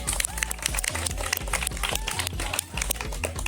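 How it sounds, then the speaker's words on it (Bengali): A small audience at a village game show claps for the winners, a lively, continuous patter of many hands at moderate distance. "সবাই মিলে হাততালি।"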